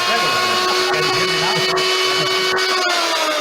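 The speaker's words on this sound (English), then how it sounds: "Now, if I take the regular blender and I turn the regular blender here, that's the sound of regular blender." Regular kitchen blender whirring loudly and steadily, its motor pitch shifting slightly, with someone speaking over it close by.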